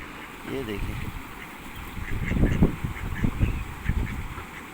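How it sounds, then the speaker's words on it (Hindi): Ducklings in a park quack and chatter while feeding, their calls coming in quick bursts over background noise, with people talking nearby. "कैसे खा रहे हैं छोटी छोटियाँ बतखें"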